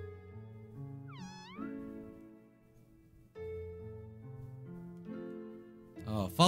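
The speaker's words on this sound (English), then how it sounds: "Oh, cat." Cat meowing in the video game Omori, a single rising-then-falling meow over looping game music, with a synthetic, tonal quality.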